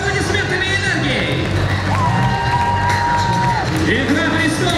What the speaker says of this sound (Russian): все вместе поаплодируем и похлопаем этой группе